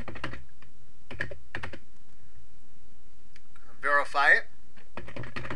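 A new password is typed on a computer keyboard, giving a few short bursts of quick key clicks separated by pauses, with a person speaking briefly in between.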